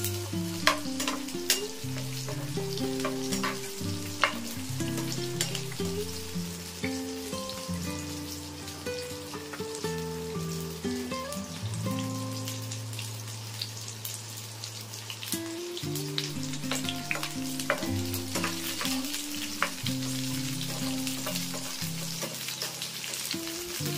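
Pointed gourd pieces frying in a pan while being turned, producing a continuous crackling sizzle with scattered pops and spatula scrapes, close and steady throughout, with no voices.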